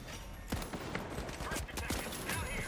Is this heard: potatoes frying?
no